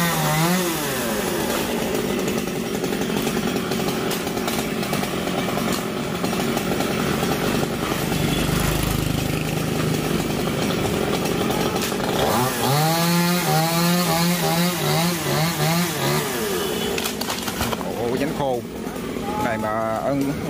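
A chainsaw roars loudly and continuously, its pitch bogging and rising as it bites into a tropical almond tree beside a road, with someone talking over the noise.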